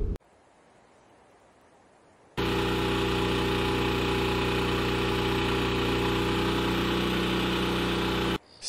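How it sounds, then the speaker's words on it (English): A generator kicks on abruptly after a quiet stretch, holding a loud, steady droning hum for several seconds before cutting off sharply. "go outside and start the generator"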